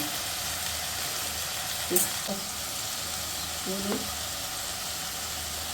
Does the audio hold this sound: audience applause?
no